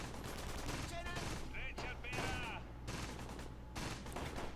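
Gunfire in Close Combat: Gateway to Caen, dense bursts of rifle and machine-gun shots crackling in rapid clusters, mixed with distant explosions and faint voices.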